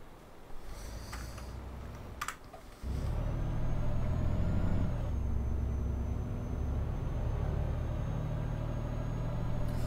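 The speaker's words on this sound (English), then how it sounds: "One thing I like about this truck is it sounds beast when you're pulling away" Heavy truck engine in Euro Truck Simulator 2 pulling away, a deep loud rumble building after a short burst and holding steady near, with a faint whine above.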